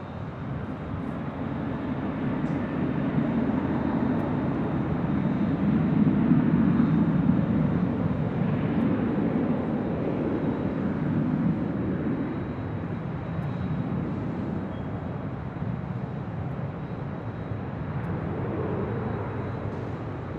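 Southwest airliner taking off from runway 24 left at LAX, heard from a high hotel rooftop as a steady, broad jet engine roar that swells and slowly fades, distant and alone.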